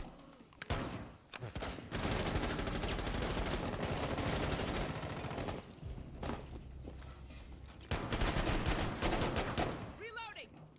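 Bursts of rapid automatic gunfire in the shooter game Rainbow Six: Siege, loud sustained volleys broken by short pauses, with players talking over the shooting.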